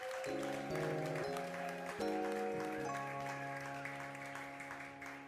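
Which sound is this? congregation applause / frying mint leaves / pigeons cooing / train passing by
congregation applause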